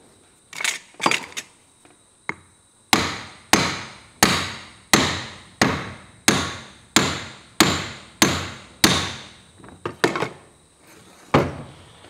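A hammer pounds on the front wheel bearing of a Massey Ferguson 20 tractor. There are a few scattered taps, then a steady run of about a dozen loud, ringing metal blows, then a few more hits, all close and without talk.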